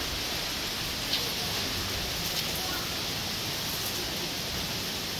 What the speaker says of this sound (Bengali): বৃষ্টি হচ্ছে সকাল থেকে একদম নন স্টপ